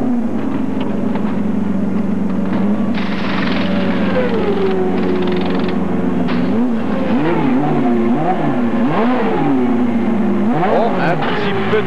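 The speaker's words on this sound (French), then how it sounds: "Un petit peu de problème là pour relancer la voiture, mais Deferrand est reparti." A race car at the 1995 Road America Grand Prix, after trouble restarting, revs and pulls away from the pits, engine pitch swooping up and down through gears amid crowd and track noise, with a commentator talking over it.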